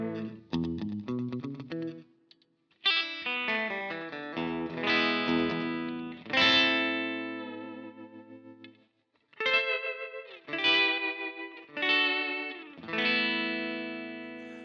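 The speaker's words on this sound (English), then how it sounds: "the reverb, bit of compression, bit of bite, grit, whatever you want to call it, and this slapback" Electric guitar played through a Helix Stadium preset with reverb, compression, gritty drive and slapback echo, ringing chords and short phrases separated by brief pauses, clear and up front with no talking.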